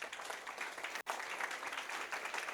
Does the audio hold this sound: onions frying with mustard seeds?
no